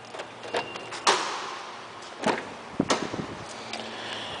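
Several sharp clicks and clunks as the door locks of a 2009 Nissan Maxima SV release, spaced irregularly over a few seconds, close by with a quiet hiss between them.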